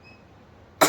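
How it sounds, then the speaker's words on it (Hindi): Near-silence broken at the very end by a single sharp, close cough. "लेकिन बात कर रही तो खांसी आ जा रही बार बार।"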